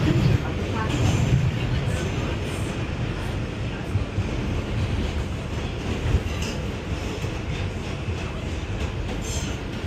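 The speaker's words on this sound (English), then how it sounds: "This is a Bronx-bound 2 express train." A New York City subway 2 express train at the Times Square 42 Street station gives a close, loud, continuous rumble and rattle of wheels and cars throughout.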